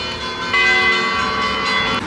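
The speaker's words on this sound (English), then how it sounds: "The bells are ringing for us." Church bells in Levanto, Italy, ring in a sustained, overlapping peal, loud and fairly close, with rich lingering tones and no talk.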